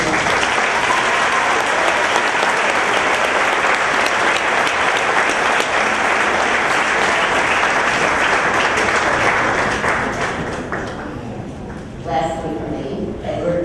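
A large audience at a graduation ceremony applauds a graduate with dense, steady clapping that stays loud for about ten seconds, then thins and softens toward the end.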